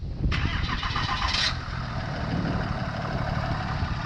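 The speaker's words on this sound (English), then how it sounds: "This is off of a cold auto start." A Ram pickup's engine is running after a cold remote auto start, a steady, close rumble from the idling motor with a brief higher whir near the start and talk over it.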